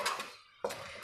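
A metal spoon knocking against a cooking pot on a stove, two short bright clanks separated by a brief pause, close and clear.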